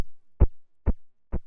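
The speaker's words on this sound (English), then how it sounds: "You'll hear this lighter." A lighter is flicked three times at an even pace as a percussive sound in an EP production, each flick a short, dry, close click with silence between.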